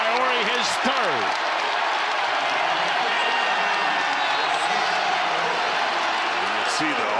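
Auburn home crowd at a college basketball game against Texas roars and applauds steadily throughout, a dense wall of arena cheering with a commentator's voice briefly audible early on.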